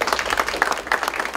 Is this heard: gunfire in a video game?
no